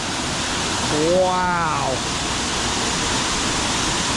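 A raging waterfall in Barrington Tops National Park roars as a constant, loud broadband rush, with a man briefly exclaiming over it.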